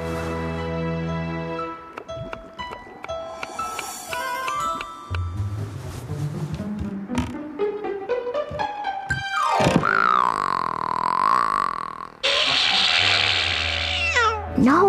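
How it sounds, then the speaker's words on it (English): A cartoon-style cat scream from a witch's cat in a Christmas TV special, heard as loud rising and falling wails among a busy, musical soundtrack. "Real cat screams like that."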